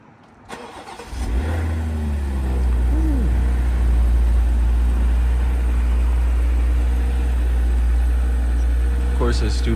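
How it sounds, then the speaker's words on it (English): A BMW G22 cold-starts with valves closed: a starter whir and sharp catch into a loud, flaring rev, then settles into a deep, steady idle close by, with a voice briefly heard. "So now get a little cold start on the beam."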